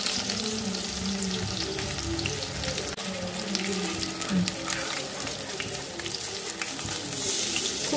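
Vegetable pakoras, chop-sized, bubble and crackle in hot oil with a steady frying hiss and some watery spitting, under intermittent low talk.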